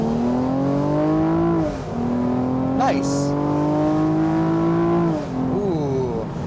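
A 2021 Chevrolet Camaro Convertible's 335-horsepower engine with a 10-speed automatic accelerates with a smooth, loud growl, climbing in pitch through several upshifts heard from inside the car, while a driver speaks briefly.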